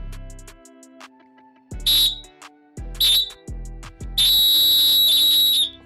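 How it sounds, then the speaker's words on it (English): A shrill referee whistle blows several times: two short blasts, then a long sustained one, loud and close, with low thumps between. "this time my dad's gonna do the whistle"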